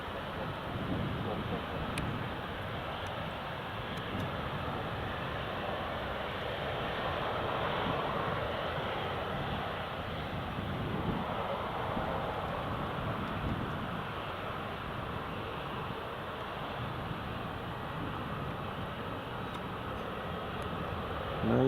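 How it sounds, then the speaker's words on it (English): Airbus A321neo rolling for takeoff at Newcastle Airport in rain, a steady, fairly distant broadband jet roar that swells gently and holds for over twenty seconds, with wind noise and occasional talk over it. "that's the A321neo rolling"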